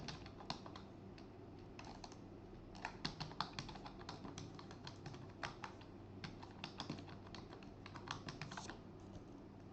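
Someone types a password on a computer keyboard, making quiet, quick, irregular clicks in short bursts against a faint background hum.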